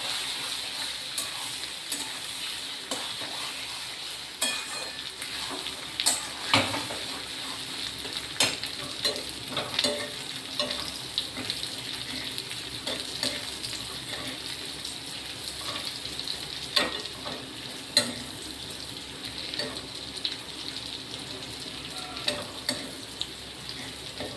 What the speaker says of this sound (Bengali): আমি গ্যাসটা কমিয়ে ভাজছি